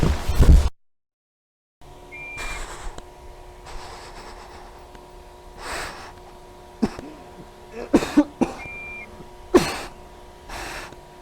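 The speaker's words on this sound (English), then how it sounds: "he's coughing now too" A man coughs several times in short, sharp bursts spread across a quiet background with a faint steady hum.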